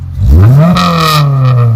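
A Toyota Corolla with an SR20VE engine and Honda ECU revs up sharply and then holds a steady, loud, high idle close by, with no talking.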